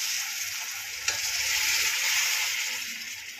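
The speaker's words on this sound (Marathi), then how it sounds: "आता हे गरम पाणी केलेलं आहे ते मी टाकून देते।" Hot water poured into a pan of sizzling Marathi potato curry (batata rassa), a loud rushing hiss and bubbling with a brief sharp clink near the start, continuous and close, no talking.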